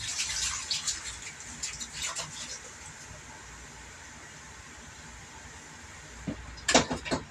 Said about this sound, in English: you want to add 2 cups of water